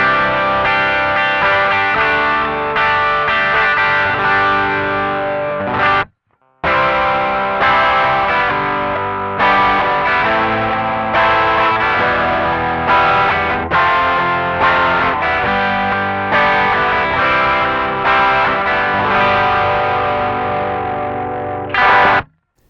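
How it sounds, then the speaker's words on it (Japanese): An electric guitar through an Ibanez TS9 Tube Screamer overdrive, warm and thick with midrange, playing a sustained distorted phrase loudly for over twenty seconds, broken by one brief stop near the six-second mark. "非常に気持ちいいオーバードライブサウンドでした。"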